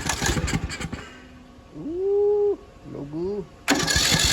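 A used zero-turn lawn mower engine cranks in broadband bursts at the start and end, with a close voice speaking between them.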